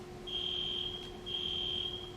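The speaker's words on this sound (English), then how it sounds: "That's the fire alarm going off." A high electronic alarm tone sounding in two long pulses with a brief gap, over a low steady hum.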